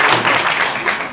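Audience applause breaks out in a hall during a mayoral candidate debate, a brief dense burst of many hands clapping at close range.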